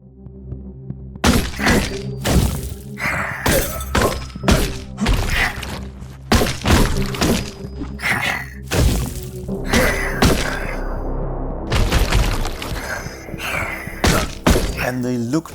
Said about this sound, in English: the poison explosions are awesome